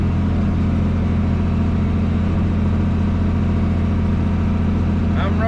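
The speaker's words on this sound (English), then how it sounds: "I'm running in 1A right now, as slow as the tractor will go." John Deere 40 series tractor running in gear 1A at its slowest speed, a steady low engine drone that stays loud and constant throughout.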